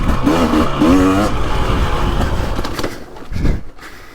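A 2023 KTM 300XC two-stroke dirt bike lugs up a hill in second gear with a deep, loud grunting engine note that swells and fades, ending in a short rise of revs.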